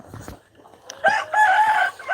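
A rooster on a farm in Aklan crows loudly and close by, one long drawn-out call after a few soft clucks and rustling.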